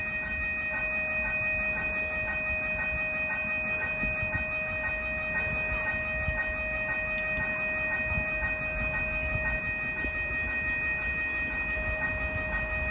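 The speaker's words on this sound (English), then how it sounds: "here comes an MBTA commuter rail train to Boston" An MBTA commuter rail train heading to Boston arriving at East Weymouth station, Massachusetts, with a sustained tonal horn or whistle over steady rumbling rail noise, loud and continuous, with no talking.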